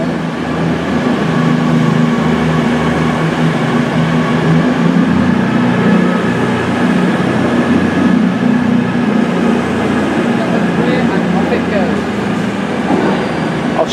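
A Virgin Trains Class 221 Voyager diesel unit rumbles steadily with a low engine hum and rolling noise, loud and continuous throughout, with a voice talking over it.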